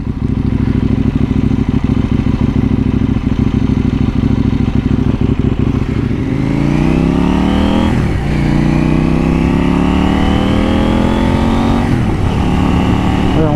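A KTM 790 Duke motorcycle engine idles with a loud, close, lumpy rumble, then revs up in repeated rising blips that climb and fall back, strong and unbroken throughout.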